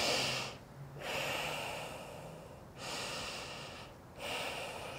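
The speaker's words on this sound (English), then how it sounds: "let's take two deep breaths together." Deep breaths during a kids yoga session in a forward-fold pose: three long, close, airy inhale-exhale cycles with brief quiet gaps between them, heard alone without talk.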